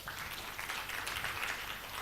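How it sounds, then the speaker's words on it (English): An audience claps in a steady, dense wash of applause at a business talk. It is moderately loud and continuous through the whole stretch, with no voices standing out. "Give her a big round of applause."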